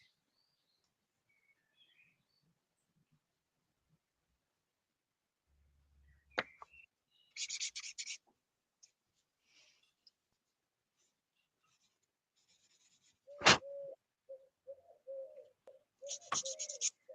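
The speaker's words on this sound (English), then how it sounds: "Those woodland pigeons are always weird to me." Woodland pigeons cooing softly in the distance, a few low repeated calls late in the stretch, mixed with sharp scratching and tapping sounds in an otherwise quiet room.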